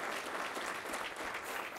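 Audience at a State of the City address claps for the county executive, steady moderate applause from a room full of people, with no talking throughout the brief burst.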